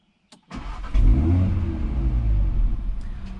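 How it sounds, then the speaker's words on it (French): A 2019 Audi RS3 with 400 hp fires up from its start button: a brief click, then the engine catches with a loud revving burst before it settles into a deep, steady idle, close by. "pour démarrer la voiture on met pied droit sur le frein et on appuie juste ici"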